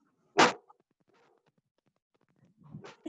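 A puppy lets out one sharp bark, then a quieter yelp follows, and a fainter whimpering cry comes near the end, all close by in a quiet room.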